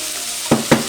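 Red onions for a red onion tart sizzle in a pan with a steady, close hiss, broken by two quick stirring scrapes near the end.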